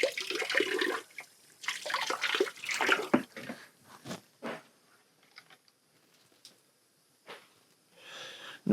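Water runs through a XERO Pure Plus purifier system with deionization, coming in uneven gushing bursts that fade to quieter trickles and brief pauses, fairly close and alone.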